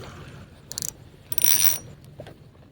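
A fishing reel's drag is loosened at an overnight fishing spot, giving two brief bursts of rapid ratchet clicking that stand out clearly above a low background hum.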